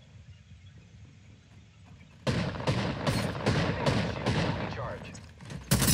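Enemies in Apex Legends open fire after a quiet stretch: a sudden run of loud, close gunshots in quick clusters, with an in-game voice line heard briefly among the shots.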